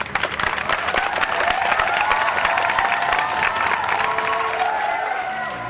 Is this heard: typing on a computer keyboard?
no